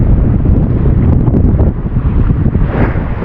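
Strong monsoon wind roars and buffets the microphone continuously by the sea near a breakwater, loud and rumbling, with no voices.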